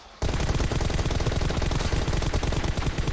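Rapid, loud gunfire from a team deathmatch in a multiplayer shooter game, a sustained burst of automatic shots in quick rhythm starting abruptly after a brief quiet moment and running dense to the end, with no talking.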